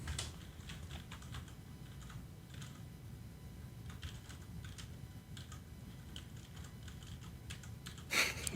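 Mechanical keyboards clatter in quick, irregular bursts of keystrokes, close and fairly quiet, with a brief sharper knock at the end and no talking.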